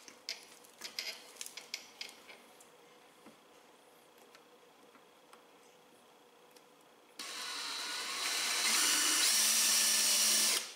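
A power drill drives screws into Mud Busters fender flares on a Polaris General 1000, starting abruptly after quiet handling clicks and running as a loud, steady close whir for several seconds.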